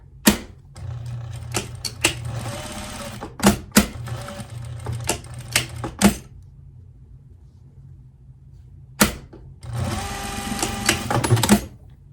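Sewing machine stitching a 1/2-inch seam up the back of a wool cloche hat: rapid, close mechanical clatter in short runs, separated by sharp clicks and a quiet gap.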